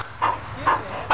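A dog left outside whimpers and yips in three short, close, high cries spaced evenly over a low background hum.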